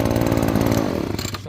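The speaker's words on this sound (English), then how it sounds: "Shut off the leaf blower." A small engine-powered Lawn-Boy blower drones loudly with a buzzing, harmonic whine, then winds down as it is shut off.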